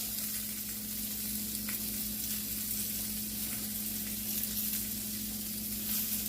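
Salmon topped with onions fries in a pan, giving a constant close hiss and sizzle over a steady low hum, with a few faint clicks and no talking.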